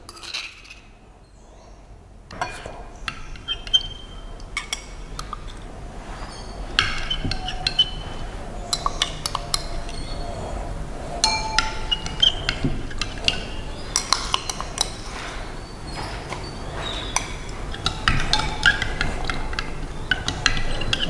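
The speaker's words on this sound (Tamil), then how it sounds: "நல்லா மிக்ஸ் பண்ணணும்" A ground-leaf DNA extraction solution stirred in laboratory glassware, with repeated small clinks and taps of glass and a light swirling rattle running steadily and close throughout.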